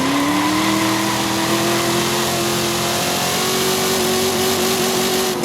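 A loud, continuous engine roar held at high revs, its pitch climbing slowly and steadily, as an old car is pushed to the redline in Forza Horizon 5.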